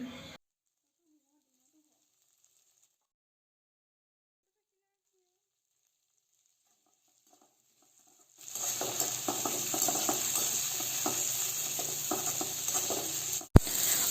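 Chopped tomatoes hit partly cooked chicken in a hot pan for a simple chicken gravy, bursting into loud, steady sizzling with scraping stirs after a long near-silent stretch, ending in a sharp clack.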